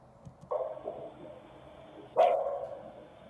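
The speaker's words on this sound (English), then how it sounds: "that was the dog bark at 43 seconds" A single dog gives two short barks about 1.7 seconds apart, distant and faint, with no voices and low background noise.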